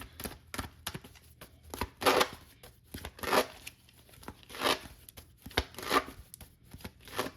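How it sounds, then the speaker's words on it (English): Tarot cards being shuffled in repeated bursts of papery riffling and flicking, fairly close, with short pauses between bursts and no talking. "So let's shuffle some tarot for you guys."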